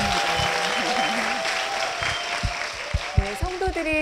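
A church congregation applauds at a Korean church service, a broad steady wash of clapping with a voice and some tonal sound running underneath, ending in a few louder separate claps.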